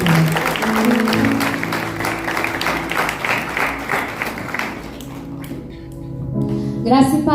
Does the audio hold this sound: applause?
yes